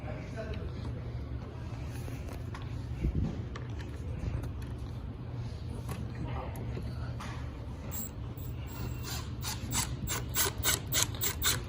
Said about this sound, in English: It's easier if you have the gun on it ready to go and screw it in.